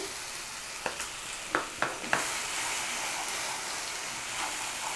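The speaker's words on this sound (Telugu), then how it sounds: "దీంట్లోనే మనం ముందుగా ప్రిపేర్ చేసి పెట్టుకున్న ఈ పచ్చడిని వేసేసేయాలి" Mint and coriander chutney dropped into a hot tempering in a pan: a few sharp clicks and scrapes, then a steady sizzle that keeps going as the mixture is stirred, with no voices.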